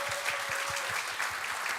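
Congregation applause in a Korean church service, steady dense clapping from many hands, moderately loud and continuous over a low hum.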